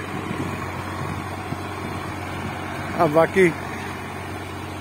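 A 50 hp Sonalika 50 RX tractor pulls a 23-tine cultivator, its engine a steady low drone running through the clip while someone talks over it, with a couple of louder vocal bursts near the end.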